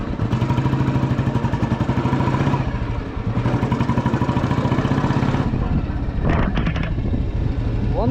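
A Royal Enfield Lightning 535 motorcycle engine thumps loudly and close, its rhythmic beat briefly dipping and rising as gears shift, with a short clatter near the end.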